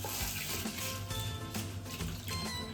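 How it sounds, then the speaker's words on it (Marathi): Basmati rice being rinsed in water: close, continuous sloshing and swishing with splashy bursts, steady and fairly soft throughout. "आणि तांदूळ मग आपल्याला स्वच्छ पाण्याने एकदा 2-3 वेळा असे धुवून घ्यायचे"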